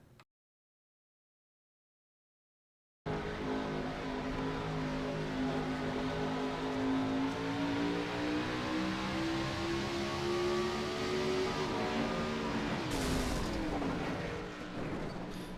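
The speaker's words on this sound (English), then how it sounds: "they were in second gear and he was going to third, but may have unfortunately hit the first gear gate instead of third" Race car engine in a racing video game droning steadily and loudly with harmonic engine tones that rise slowly, then a brief harsh burst near the end as a gear shift is missed, with no talking.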